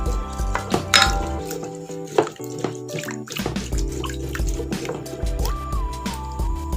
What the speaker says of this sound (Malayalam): ഇത് ജസ്റ്റ് ഒന്ന് ഇളക്കി കൊടുക്കട്ടെ.